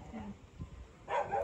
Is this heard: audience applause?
no